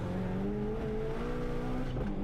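A street-racing car in Texas spins its tires while its engine roars up close, a loud, steady, throaty drone with rising and falling revs and no voices over it.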